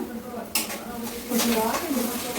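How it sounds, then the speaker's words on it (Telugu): Sugar and water being stirred in a pan, with a few scraping, clinking utensil strokes against the metal under a steady kitchen background and some voices. "పంచదారలో వాటర్ వేస్తుంది కొంచెం ఇప్పుడు కలపాలి దాన్ని"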